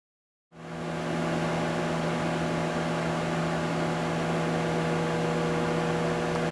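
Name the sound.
microwave oven heating peanut brittle mixture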